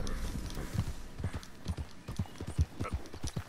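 Horse hooves clip-clopping in a video game, a brisk regular walking rhythm of close, distinct hoof strikes on hard ground, about two per second, without talk.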